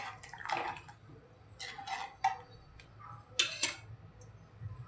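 A spoon stirs spicy Malvani-style crab curry in a pot, making soft scraping and a few sharp metallic clinks against the pot amid quiet wet sloshing, close and fairly faint, with no talk.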